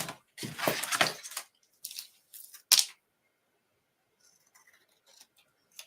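Scissors snipping paper card in a craft session, a few short crisp cuts and rustles close by, then quiet with faint handling sounds.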